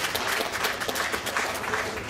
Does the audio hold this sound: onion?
no